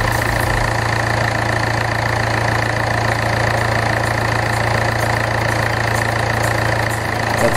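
A car engine idles steadily for the whole stretch, a close, even mechanical hum with a faint knocking rhythm and no pause.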